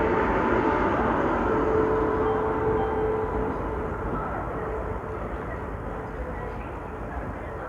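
The 12796 Lingampalli–Vijayawada Intercity SF Express, hauled by a Vijayawada-based locomotive, rumbles past in a continuous loud roar of wheels and carriages with a faint tonal hum, steady throughout and slowly easing.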